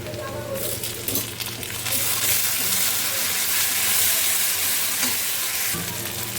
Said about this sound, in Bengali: পেঁয়াজ সুন্দর করে ভাজা হয়ে গেছে। এখন দিয়ে দিচ্ছি আদা রসুন আর জিরে বাটা।